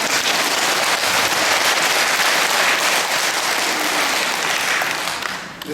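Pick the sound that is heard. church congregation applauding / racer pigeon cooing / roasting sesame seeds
church congregation applauding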